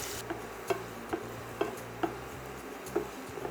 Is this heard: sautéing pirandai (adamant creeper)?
yes